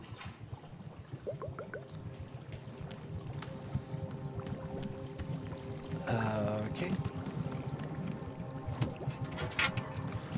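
Hot water pours into a cup in the video game Wanderstop, a brief liquid trickle midway through a bed of ambient game sounds and faint tones, with no voices.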